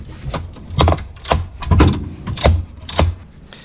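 A jack lowering the rear differential of a BMW E46 M3, several rhythmic metallic ratcheting clunks spaced about half a second apart, close and fairly loud, without speech.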